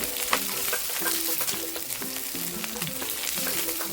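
Hot green chilli and chopped garlic fry in oil with spluttered mustard seeds, giving a steady close sizzle and crackle broken by light stirring scrapes.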